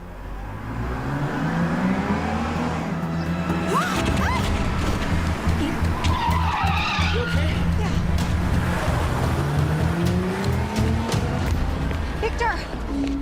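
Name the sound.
car skidding and hitting a person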